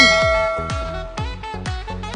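A notification bell sound effect rings out in a series of about six bright metallic dings with ringing overtones, loud and close, struck at an irregular quick pace.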